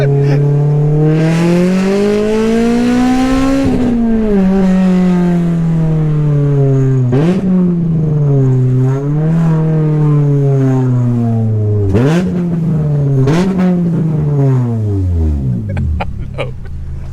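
K24-swapped Honda FN2 Type R engine revving hard, loud and close, repeatedly climbing and dropping with sharp hits against the limiter and missed shifts, ending in a long falling rev.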